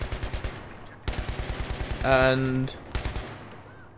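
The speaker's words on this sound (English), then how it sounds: "fortunately I got a gun with 100 bullets in a magazine, which is probably a machine gun, obviously." Rapid bursts of automatic machine gun fire in Battlefield 3, loud and close, broken by short pauses between volleys, with a brief in-game tone and a voice speaking quietly in the middle.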